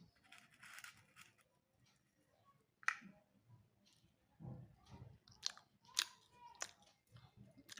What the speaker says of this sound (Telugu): మురుగులు వీటిని టేస్ట్ చేద్దాం ఫ్రెండ్స్ ఎలా ఉన్నాయో